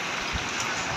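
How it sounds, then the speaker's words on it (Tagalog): Light rain falls steadily during a super typhoon in Cainta, a soft even hiss of drops with no pauses and no voices. "Hindi malakas yung ulan."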